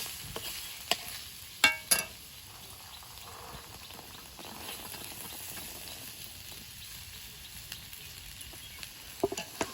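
Peas and beetroot frying in a wok with occasional stirring: a quiet, steady sizzle with a few sharp scrapes and clinks near the start and end, no voices.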